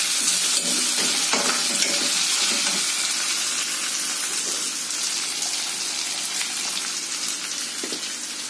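Green chillies fry in a pan for a coconut-free prawn masala, making a steady, loud, close sizzle that fades slightly over time, with stirring scrapes and no talk.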